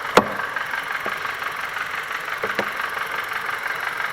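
Rough-running car engine idling with the cover about to come off for coil access, a steady close mechanical drone broken by a few irregular knocks and stumbles.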